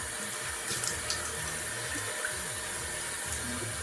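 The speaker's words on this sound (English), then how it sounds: "I just sort of damp my face a little bit with some warm water" Warm tap water runs steadily from a bathroom faucet into a sink for wetting the face, a close, continuous splashing stream with no voices.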